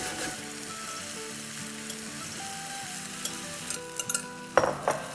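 Sauce goes into frying chicken and is stirred through, a steady sizzle under soft background music, followed by several sharp clinks and scrapes of a utensil against the pan near the end.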